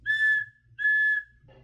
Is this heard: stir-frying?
no